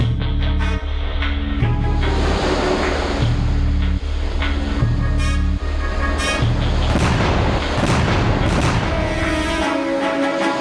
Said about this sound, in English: dozens of naval guns opened fire on the shore